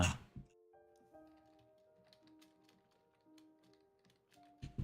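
A computer keyboard is typed on in quick bursts of light clicks over a soft sustained tonal background, fairly close and with no voices.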